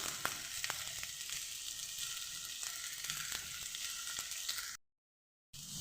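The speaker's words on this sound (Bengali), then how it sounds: "তাতেই ভেজে নেব সিমটাকে" Flat beans (sim) frying in hot oil while cooking a vegetable curry with spinach, eggplant, potato and bori, a soft continuous sizzle with faint crackling pops, quiet and close, ending in a short silence.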